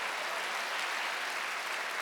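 A Korean church congregation applauds during a Wednesday worship service as a steady, dense wash of clapping, moderately distant and even throughout, with no speech.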